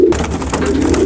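French pure-bred homing pigeons cooing in a loft in summer, a steady low continuous coo close to the microphone throughout.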